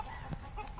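A runaway rooster clucking at a village party, one short close cluck over a noisy background.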